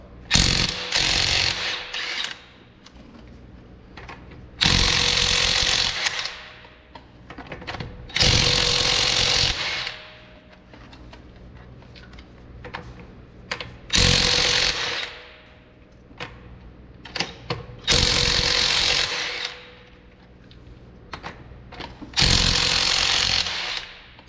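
An impact power tool with a 19 mm socket removes the wheel lug nuts on a Trailblazer SS in a garage. About six loud, close bursts of rattling hammering come in a regular rhythm, separated by quieter pauses, with no talk.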